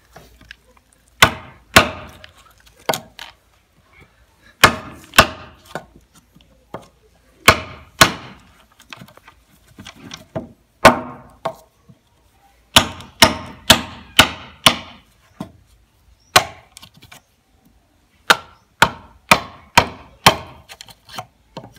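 Holes are made through bamboo for building a ladder, heard as sharp, close, repeated wooden knocks in irregular bursts of several blows, separated by short pauses.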